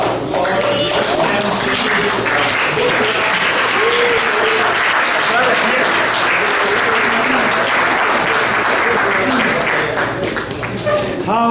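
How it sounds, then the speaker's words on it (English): A crowd at an interfaith iftar gives sustained applause, loud and full, with voices and cheers mixed into the clapping as it carries on steadily before easing slightly at the end. "How about a round of applause for Akhtar Sadiq?"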